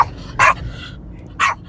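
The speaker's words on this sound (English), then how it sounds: "He's mad nasty. A nasty dog." Two short, sharp dog barks about a second apart, close and loud over a quiet low rumble, from an aggressive, ill-tempered dog.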